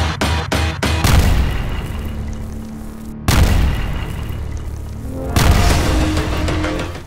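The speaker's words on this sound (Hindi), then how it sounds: "धमाका इतना जोरदार था" A few sharp cracks, then a deep, powerful boom that rumbles on, followed by a second heavy blast; loud and close, no voices.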